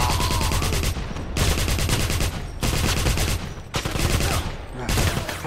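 Dense, continuous automatic gunfire fills the scene in a Wolfenstein shooter game, loud and rapid with brief dips between bursts. Game sound effects are layered underneath the shots.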